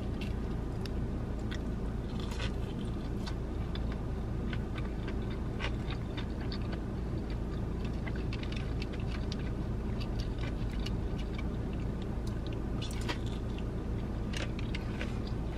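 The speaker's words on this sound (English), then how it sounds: "You guys hear that crunch?" Crunchy food chewed close to the mic, a long run of faint, irregular crisp crunches and clicks over a steady low background hum.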